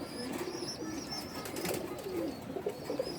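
A green-necked khaki male pigeon coos softly and repeatedly against a noisy background, faint and somewhat distant.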